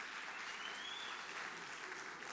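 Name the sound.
applause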